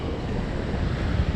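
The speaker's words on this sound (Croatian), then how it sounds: "Valovi." Sea waves roll onto a beach at Nha Trang, Vietnam, as a continuous loud, broadband wash with wind buffeting the microphone and no voices.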